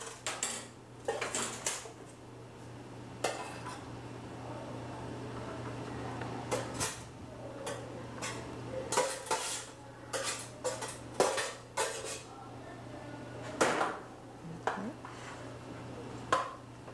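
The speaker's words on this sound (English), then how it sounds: "She's stirring it well into the dressing" A pound of pasta is stirred into a dressing, with utensils clinking and scraping against dishes in irregular bursts and occasional louder knocks against a low steady hum, with no voices.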